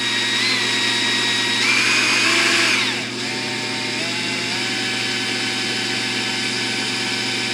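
A power drill with a 1/4 inch bit whines steadily and loudly up close, boring into wood, its pitch shifting as it bites in, then dropping briefly before running on at a lower, even tone.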